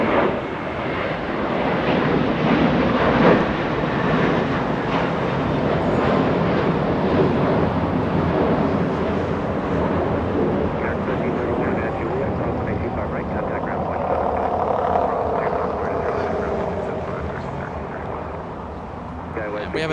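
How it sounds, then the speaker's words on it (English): JetBlue flight 1388, an airliner departing Los Angeles International for Boston, roars loudly and steadily from near range, the jet noise swelling and slowly easing as it climbs away, with a voice talking over it. "We have a departure."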